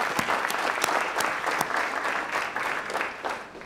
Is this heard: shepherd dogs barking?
no